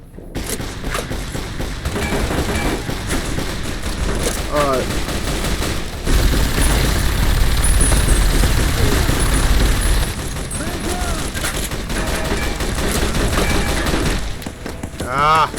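Minigun fire in the Fallout New Vegas video game roars continuously at close range, a dense unbroken buzz of rapid shots with short gaps and a louder stretch in the middle, with faint chatter underneath.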